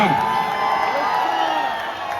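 A crowd at a Dahi Handi celebration cheers and shouts in a sustained, loud wash of voices, with a sharp whoop at the start and an amplified voice carrying over the noise.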